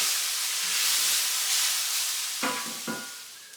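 Carne asada meat sizzles and caramelizes in a hot pan, a soft steady hiss with a couple of brief clatters of stirring near the end.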